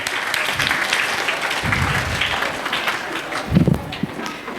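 An audience at an annual religious gathering breaks into strong, sustained applause, a dense continuous clatter of many hands with a few heavier thumps toward the end.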